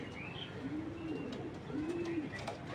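A male pigeon held in the hand gives soft, low cooing calls twice against a quiet, slightly noisy background; any flapping or wing vibration is faint and hard to pick out.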